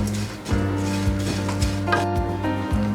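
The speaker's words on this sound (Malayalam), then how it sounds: "പാൻ നന്നായിട്ട് ചൂടായിട്ടുണ്ട്. അപ്പോൾ നമുക്ക് അവലിട്ട് കൊടുക്കാം. ഇനി അവൽ നന്നായിട്ടൊന്ന് റോസ്റ്റ് ചെയ്തെടുക്കാം." Flattened rice (aval) roasts in a hot pan, with a soft steady sizzle and rhythmic scraping clinks of a spatula stirring about every half second, close and alone.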